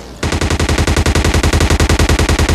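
Rapid automatic gunfire in a battle royale video game rattles in one loud, unbroken burst of evenly spaced shots, with no voices over it.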